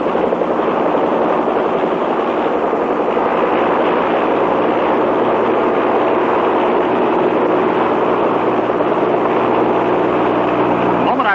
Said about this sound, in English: The copter rises straight up